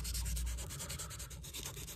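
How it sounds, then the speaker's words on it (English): Sandpaper rubbing over a scratch on a Florsheim leather shoe during restoration, a steady close scratchy abrasion with regular back-and-forth strokes and no talk. "So I don't want to go too deep sanding it."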